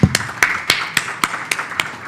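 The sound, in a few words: audience applause for the panel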